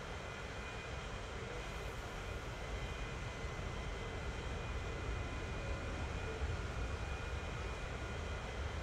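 An airliner engine roars steadily through takeoff in the Transport Fever video game, a constant, fairly faint rumbling drone that holds unchanged with no voices.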